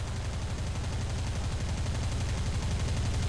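Aircraft machine-gun fire in War Thunder, a steady, continuous rapid rattle of rounds that holds for several seconds at an even, loud level, with no voices over it.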